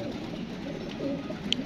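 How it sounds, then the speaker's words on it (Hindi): A female pigeon, found fallen on a rooftop in poor condition, gives a soft low cooing at close range, steady and quiet throughout with a faint brief chirp near the end. "ये कबूतरी है"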